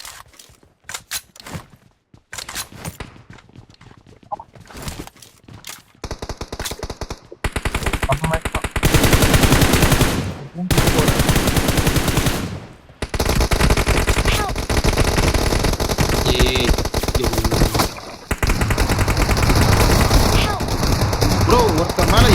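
Automatic weapon fire in the video game PUBG Mobile: long, loud, rapid bursts of machine-gun fire, with sparse shots and footsteps at first, then near-continuous firing while players talk.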